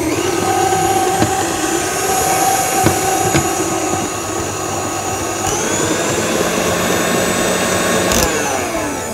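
An electric mixer whips two cans of cream in a bowl with a loud, steady, high whine that shifts pitch slightly as the mixture thickens, close and continuous with no talk.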